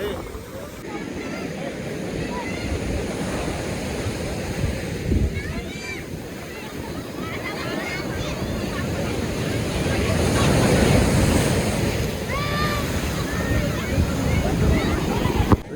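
Shallow surf washes steadily onto Nagwa beach, a broad rushing wash with gusts of wind buffeting the microphone; a crowd murmurs and people talk faintly in the background throughout.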